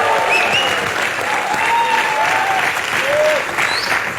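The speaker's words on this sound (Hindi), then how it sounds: "पहले जोरदार तालियां।" A crowd bursts into loud, sustained applause for cricketer Wasim Akram, first bowler to take 500 one-day wickets, with thick, close clapping and a few shrill whistles rising above it at a cricket club gathering.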